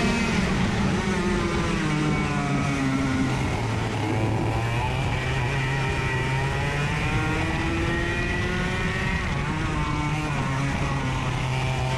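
Racing karts pulling away from a green-flag start at Road America, a dense, continuous engine roar with several rising and falling pitches layered together, loud and steady throughout.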